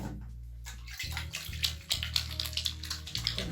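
Tap water runs steadily into a basin during a face-washing routine, with a close, continuous rushing and splashing that breaks into brief gurgles and spatters as hands move through the stream.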